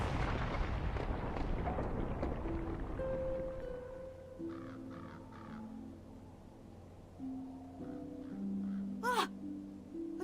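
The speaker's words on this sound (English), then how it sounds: "This explosion was caused by weapons." Weapon-caused explosion in the Xenosaga Episode III game: a dense, loud blast and rumble that fades over a few seconds into tonal game sound effects and faint calls.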